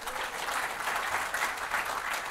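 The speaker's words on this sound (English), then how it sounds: "A bit of a round of applause for Coz, please." A crowd at a Gallipoli cruise meet-and-greet in Adelaide applauds its host, a full, even roar of clapping from many people that carries on without a break and sounds slightly distant, with no talking on top.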